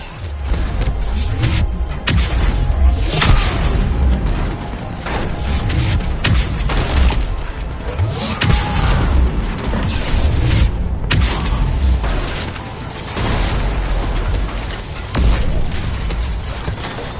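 Cannons firing in a space shooter video game: a dense, continuous barrage of booming shots and crashing impacts, loud and relentless with rapid repeated blasts throughout.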